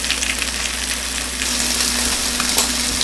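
Chicken pieces browning in a frying pan give off a steady, close sizzle that holds evenly throughout, with no voices over it.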